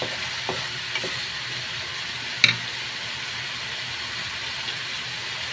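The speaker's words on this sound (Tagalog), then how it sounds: "haluin lang po natin mga kalakay. Yan, haluin lang natin." Chicken adobo sizzling in a pan as it is stirred, a steady hissing fry with a few soft utensil taps and one sharper clink.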